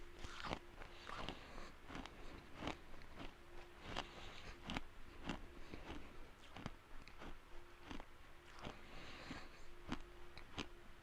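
Crunchy old trading card gum being chewed, with steady repeated crunching bites close to the mic over a faint background hum.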